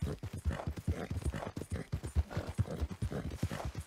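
Rhythmic hoofbeats of a horse in Red Dead Redemption 2, close and steady clip-clop thuds repeating quickly over a low ambient bed, with no voices.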